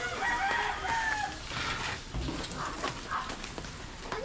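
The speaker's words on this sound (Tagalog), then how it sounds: "Manok mo yan?" A rooster crows in the first second and a half, a bright wavering call over steady outdoor background noise, with further fowl sounds and rustling after it; no one speaks.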